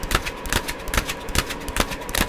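Tarot cards are shuffled by hand at close range, giving repeated crisp riffling bursts at an uneven rhythm over a soft background, with no talking.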